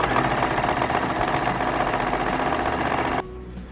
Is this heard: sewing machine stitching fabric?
yes